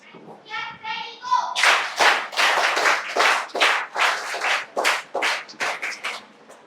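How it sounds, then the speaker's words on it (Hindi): A group of schoolchildren clapping at a health talk in Jaipur, starting with a brief tonal sound and then loud rhythmic claps in unison, roughly a dozen strong beats, with a voice briefly heard. "आप लोग ताली बहुत बढ़िया बजाते हो बेटे"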